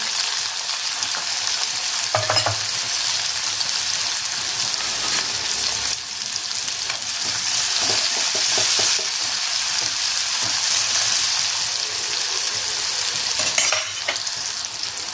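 Cumin seeds and onion frying in hot oil for a Maharashtrian brinjal bharit, a loud continuous sizzle with occasional spatula scrapes and stirring bursts throughout, no voices.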